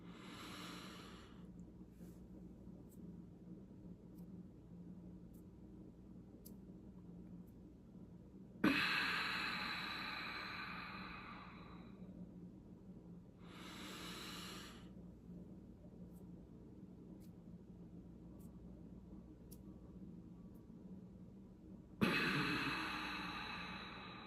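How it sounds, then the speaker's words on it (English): Energy breathing exercise: slow deliberate breaths with sharp forceful inhales and long audible exhales, in a few separated cycles, close to the microphone with quiet pauses between. "So I will now demonstrate energy breathing."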